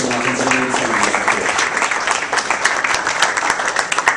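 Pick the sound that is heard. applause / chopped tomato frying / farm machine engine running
applause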